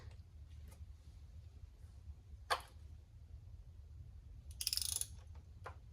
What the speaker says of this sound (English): just put it on a wrench, and we're just gonna break these loose